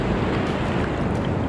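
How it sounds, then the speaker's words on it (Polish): Ocean surf rolls in a dense, continuous roar at a Bali beach in Nusa Dua, loud and close, mixed with heavy wind rumble against the microphone. "Tam są fale dobre."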